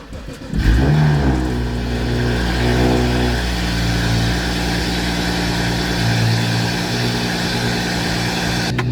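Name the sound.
BMW 335i N55 car engine starting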